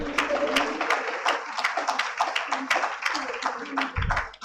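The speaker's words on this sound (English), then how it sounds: "Ladies and gentlemen, please use round of applause." A conference audience gives a round of applause, a moderately sized crowd clapping in quick, uneven bursts heard from up close, fading out near the end.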